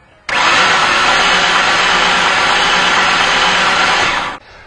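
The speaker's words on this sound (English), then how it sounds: "All right, that would be a broken timing chain." A 2002 Toyota Camry engine cranking with a broken timing chain gives a loud, even, fast whirring spin. It starts abruptly, runs steadily for about four seconds without catching, then cuts off.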